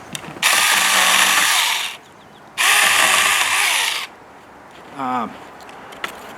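A small Saker mini chainsaw cutting wood buzzes loudly in two sustained cuts, each about one and a half seconds, followed by a brief voice, close up.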